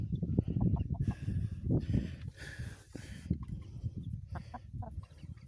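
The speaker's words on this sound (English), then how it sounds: "We ended up with a rooster. This one right here is a rooster." A rooster and hens cluck and murmur close by in a busy, uneven patter, with a brief louder call rising in the middle.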